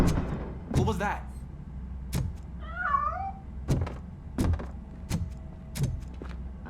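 A cat meows once in RoboCop: Rogue City, a rising and falling wavering call in the middle, set among loud game thumps and clunks with no talk over it.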